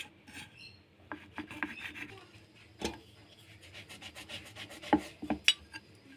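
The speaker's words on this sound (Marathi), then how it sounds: "बघा मित्रांनो अशा पद्धतीने आपल्याला ही ब्रेड कट करून घ्यायची आहे साईडनी" A knife trims the crusty sides off slices of bread, giving close, soft rasping saw strokes and small scratches in an uneven rhythm, quiet and with no talking.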